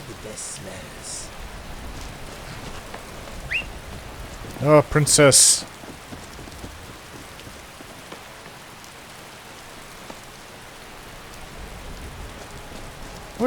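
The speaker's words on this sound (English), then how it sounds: "Rain releases all the best smells." Steady rain falls across a Skyrim landscape near Falkreath, a constant soft hiss throughout with a brief louder burst midway, while someone talks faintly over it.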